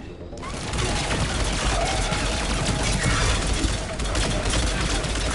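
Rapid incendiary-ammo gunfire in the game Mass Effect 3, a dense, continuous burst of shots and blasts that fills the whole stretch, loud and close with a short dip partway through.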